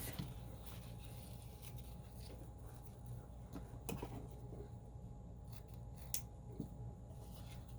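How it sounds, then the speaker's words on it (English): Scissors snip through nylon webbing, cutting two strips for tote bag straps: quiet, steady crunching cuts with a few sharper snaps, close by with no talking. "cut 2 strips of webbing to that length"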